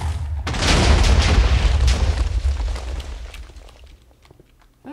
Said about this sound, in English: I think there's a nice big ass explosion.